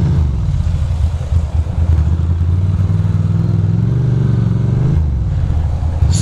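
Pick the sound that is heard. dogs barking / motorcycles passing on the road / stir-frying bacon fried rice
motorcycles passing on the road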